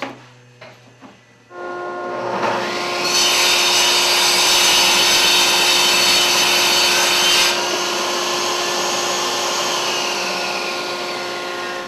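A $500 table saw cutting wood with a zero-clearance insert while dust collection runs, a loud steady whine and rushing roar that holds for several seconds after a few quiet knocks, then eases as the cut ends.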